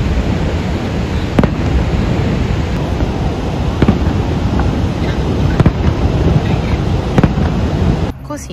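Fireworks bursting over Niagara Falls, distant booms and sharp cracks at irregular intervals over a constant roar of wind and rushing water, with a faint voice in the background.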